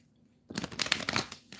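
Tarot cards being shuffled by hand: after a near-silent half second comes a close, papery burst of riffling and flicking that lasts about a second before fading.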